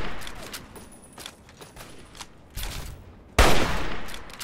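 Gunfire in the PC game Fallout 3 cracks out in a few scattered distant shots, followed by a sudden loud, close burst that keeps rumbling on at the end.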